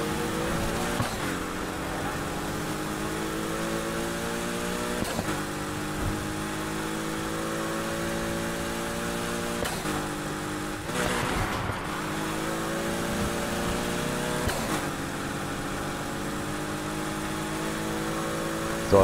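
A Porsche races in Need for Speed Heat, its engine revving hard and climbing through gears in repeated rising sweeps, each cut by a short shift break, steady and loud throughout.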